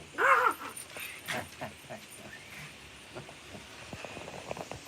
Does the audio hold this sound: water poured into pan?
no